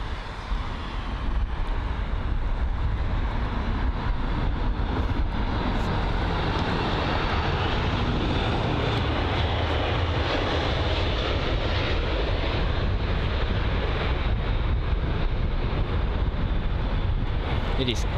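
An airliner touching down on the runway at London Heathrow, a loud continuous engine roar that fills the whole stretch without letting up.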